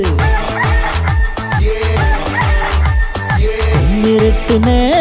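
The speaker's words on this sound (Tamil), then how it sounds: "இருட்டு நேரம் கோழி கூவுது" A rooster crows repeatedly, with clucking fowl around it, set against a driving, rhythmic dance-song beat in a Tamil youth dance track.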